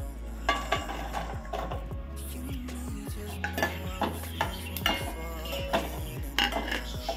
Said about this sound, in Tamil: நெய் காஞ்ச உடனே நம்ம எடுத்து வச்ச அந்த முந்திரி, திராட்சை, வால்நட் இந்த மூணுத்தையும் இதில் ஆட் பண்ணி நல்லா ஃப்ரை பண்ணி எடுத்துக்கலாம்.